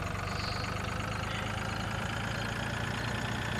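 A tractor engine idles in the farming video game Landwirtschafts-Simulator 2013, a steady, even mechanical rumble with no change in pitch and nobody talking over it.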